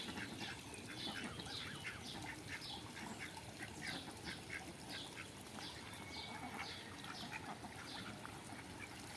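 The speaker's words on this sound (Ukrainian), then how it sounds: "Качки купаются." A group of ducks bathing quacks and squawks continuously nearby, calls overlapping in a busy chorus over faint watery background noise.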